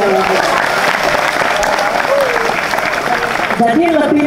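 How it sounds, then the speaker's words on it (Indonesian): Audience applause for West Java at an Indonesian school-related event, a loud steady clapping crowd that carries on throughout with voices talking over it and a brief swell near the end. "Tepuk tangan dulu kita ke Jawa Barat."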